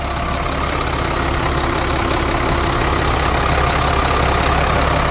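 A large diesel engine of an old 1992 Ford L8000 fire truck idles steadily at close range, a deep, even rumble with a slight rhythmic knock, no voices.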